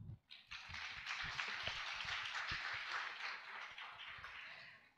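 Audience at an AI conference panel discussion applauding the panelists, with sustained clapping that starts abruptly and continues steadily before tapering near the end, moderately distant.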